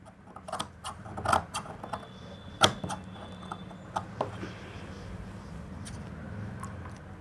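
Scissors cutting fabric around a chudi neckline, with a run of crisp snips and clicks and a few louder ones early, over a quiet background hum, close by and with no speech.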